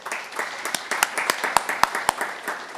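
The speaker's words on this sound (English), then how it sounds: "Let's give a round of applause to these fine students." Applause for students at a school board meeting: a modest group claps briskly and unevenly, with a few sharp, loud individual claps standing out near the end, heard fairly close in an indoor room.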